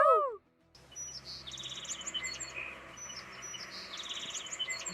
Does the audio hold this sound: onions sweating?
no